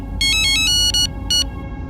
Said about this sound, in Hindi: तुम्हारे पति को फोन लगाओ।